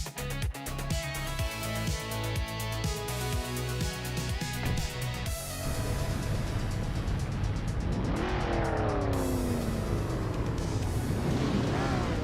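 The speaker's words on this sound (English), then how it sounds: "the race is underway at Phillip Island, and leading the pack is Scott Dixon in a classic 1959 Maserati 3500 GT" Race cars roar around the Phillip Island circuit in a racing game, starting with a rapid rhythmic gear-shifting rev sequence, then rising and falling engine whines as several cars accelerate and pass, with some tire squeal.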